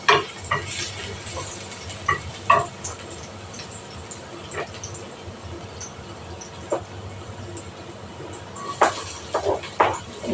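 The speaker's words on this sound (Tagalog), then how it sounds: "Tayo, gisa na tayo ng ng sibuyas, bawang," Onion and garlic sautéing in a little oil in a home kitchen pan, with a soft steady sizzle under occasional sharp clinks and scrapes of a utensil stirring against the pan.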